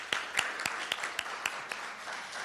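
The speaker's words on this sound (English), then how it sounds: "Another round of applause." A small audience at a candidate forum gives sparse, fairly quiet applause, with a handful of distinct sharp claps standing out over a soft background patter.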